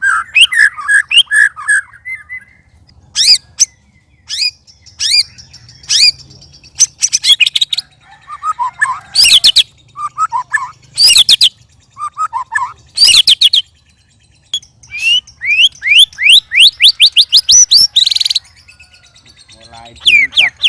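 A white-rumped shama (murai batu) sings at length, close and clear, with varied rapid whistles, trills and sharp chirps in bursts separated by short pauses, plus a few harsh squawky notes.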